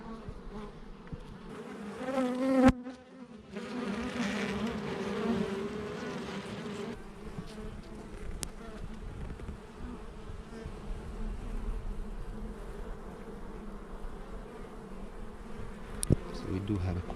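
Honey bees buzz in a steady drone around an open hive on a Portuguese farm, where the brood looks poor and the bees show deformed wings and varroa mites; the buzzing is continuous and close, with a few sharp handling knocks.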